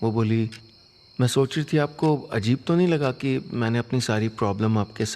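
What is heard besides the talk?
No everyday noise stands out behind the speech.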